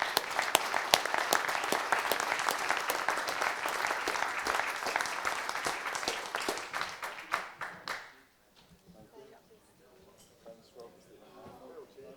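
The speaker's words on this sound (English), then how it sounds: "give the panel a great big clap" A crowd applauds a workshop panel loudly and steadily for about eight seconds, then the clapping stops abruptly, leaving faint room noise.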